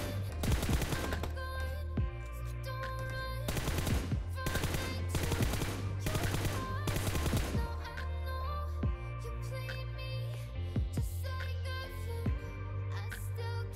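Rapid automatic gunfire from the PUBG Mobile video game while shooting at moving targets, with several loud bursts early and sparser single shots later over steady in-game background sound.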